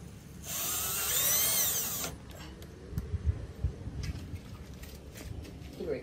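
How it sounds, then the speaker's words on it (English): A power drill spins up and drives a metal screw into a garage door bottom seal, a close rising whine lasting over a second, followed by handling knocks and thumps, with a voice briefly at the end. "I have my 6 screws, metal screws. Let's go ahead and secure those."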